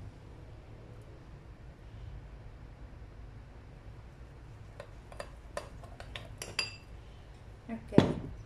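Pork rib marinade gets stirred together with olive oil in a bowl: a quiet stretch, then a quick series of clinking utensil taps against the dish, ending in a louder knock.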